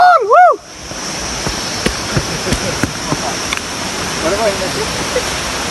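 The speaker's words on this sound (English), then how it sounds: "Waterfall!" A waterfall in the countryside roars as a steady broadband rush of falling water, heard after a brief excited voice at the start, with scattered footsteps and faint voices over it.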